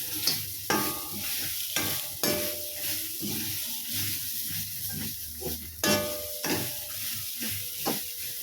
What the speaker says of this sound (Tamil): எல்லாம் சேர்ந்து நல்லா வதங்கட்டும்.